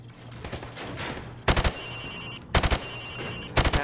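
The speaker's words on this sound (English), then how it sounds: "Now, shoot at the targets while firing from the hip." Rifle in Call of Duty fired from the hip at range targets: three sharp bursts of several rapid shots each, loud and close, spaced about a second apart over a low ambient hum.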